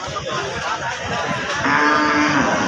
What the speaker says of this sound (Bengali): বিশাল বড় বড় গরু আসছে